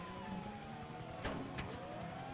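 Police car siren in GTA 5 online on PC, a steady wailing tone sustained throughout under game engine and traffic noise, with a brief louder crash or burst partway through.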